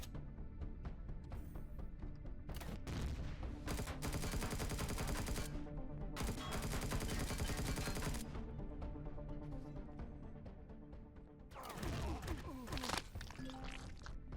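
Turrets open fire on the player in the space survival game Empyrion Reforged Eden, with loud, sustained bursts of rapid gunfire that rattle on for several seconds, pause briefly, then start again.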